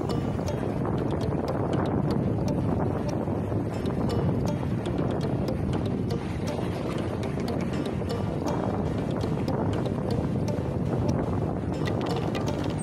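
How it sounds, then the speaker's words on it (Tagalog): Steady, loud wind buffets the microphone at Tagolo Beach Resort, a continuous broadband roar with gusty texture lasting throughout, no voices heard. "Oh my god, it's so windy."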